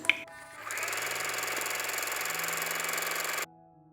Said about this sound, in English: First sew the underbust darts on the front bodice, and then join them at the shoulder and at the sides.